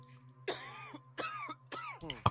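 A person coughs hard several times in quick succession, a close, harsh burst of three or four coughs with a throat-clearing quality.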